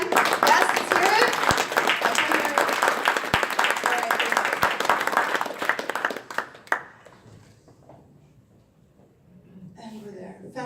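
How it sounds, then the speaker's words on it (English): An audience claps and cheers for local sponsors at a fintech startup weekend opening ceremony in Geneva, dense applause for about six seconds that fades out, followed by quiet and then a speaking voice. "Let's go ahead and give them a round of applause again"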